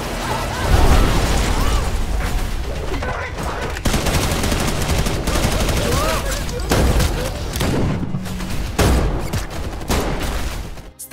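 Rapid bursts of gunfire and booms fill a gunfight in an action film, dense and loud throughout with short breaks between volleys.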